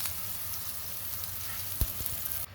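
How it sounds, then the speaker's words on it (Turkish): Water börek (su böreği) frying in a pan: a steady close sizzle with one short knock partway through. "Altı kızarana kadar pişiriyoruz."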